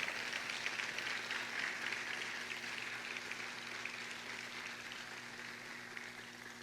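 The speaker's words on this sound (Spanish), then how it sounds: "Dale un aplauso, él merece eso." Congregation applause during a church sermon, a dense steady wash of many hands clapping together, sustained throughout and slowly easing off, with no talk over it.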